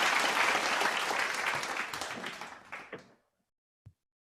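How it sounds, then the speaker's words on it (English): A crowd at a morning devotion service applauds loudly and steadily, the clapping thinning out and fading over three seconds, followed by silence and a single soft knock. "Please give him a round of applause."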